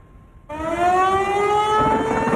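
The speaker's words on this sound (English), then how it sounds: "Tornado warning sirens is sounding the alarms" A loud, steady tornado warning siren wails in Louisville, Kentucky, starting abruptly and holding a rising tone that fills the space.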